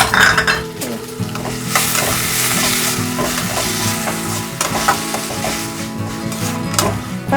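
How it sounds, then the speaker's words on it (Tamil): Chopped onion and tomato sauté in a pan for a brinjal masala, a steady close sizzle broken by repeated scraping stirs of a spoon against the pan, with no talking. "இப்போ வெங்காயம் தக்காளிலாம் நல்லா வதங்கிடுச்சு."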